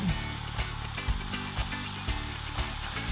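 Breadless cauliflower stuffing seasoned with dried rosemary, ground sage and salt sizzles steadily in a hot pan, with a spoon stirring through it in soft, repeated scrapes and knocks about every half second, close and continuous.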